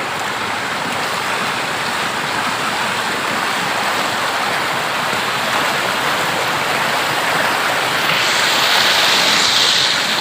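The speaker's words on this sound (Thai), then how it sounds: "ดูมวลน้ำโอ้น้ำเยอะน้ำและแรง" Strong floodwater surges across flooded rice fields in Kanthararom and Huai Samran subdistricts, a loud, continuous broadband rush that swells slightly toward the end, with no voices.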